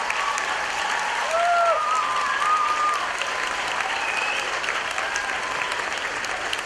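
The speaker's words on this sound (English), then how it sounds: "Let's give her one more round of applause." An audience at a Teacher of the Year announcement gives steady, full applause that holds at an even level throughout, with a few faint voices calling out briefly over the clapping.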